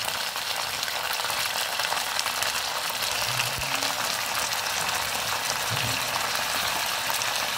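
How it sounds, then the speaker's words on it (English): Brinjal (eggplant) frying in a pan for chutney, a steady, even sizzle throughout with a few soft low knocks from the pan. "Now I'll let my brinjal fry."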